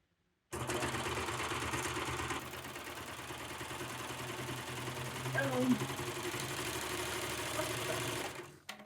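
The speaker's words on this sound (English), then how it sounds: "With my machine, you have to start with the hand wheel, a couple cranks." A cover stitch sewing machine hemming a jersey top, running as a steady fast mechanical whir and rattle for about eight seconds, close and loud, starting abruptly and slowing to a stop at the end.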